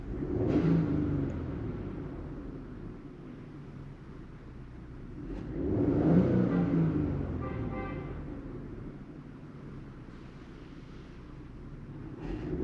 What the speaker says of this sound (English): So number 1, there's just a misfire there.